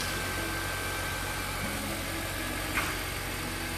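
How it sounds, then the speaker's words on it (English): A Honda Elysion 2.4 Prestige with automatic transmission idles, its engine a very quiet, steady low hum with faint even vibration and one small click near the end, no voices. "It is running and you probably can hear it. It's very, very quiet."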